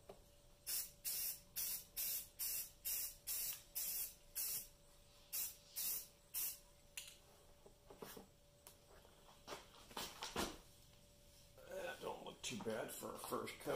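Spray can applying a coat of paint to a part of a 1929 Atwater Kent 55C radio: a run of short rhythmic hissing bursts, then a few longer sprays, close and clear, with a voice speaking quietly near the end.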